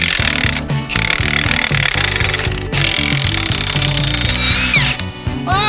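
Power tool working loose the bolts on a truck wheel hub, with loud, close, continuous rattling hammering in rapid bursts that stutter briefly between runs.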